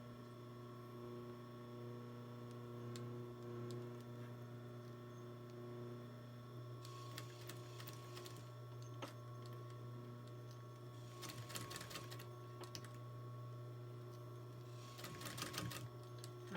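A sewing machine stitches a fabric face mask with elastic, giving faint, steady mechanical hum with a tonal drone and a few short bursts of louder clattering stitching toward the end, heard close but quiet.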